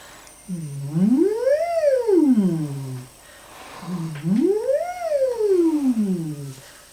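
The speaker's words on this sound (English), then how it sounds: "Then a little siren on a hum." A voice hums two smooth siren-like sweeps, each rising then falling in pitch, with a brief pause between them, close and steady.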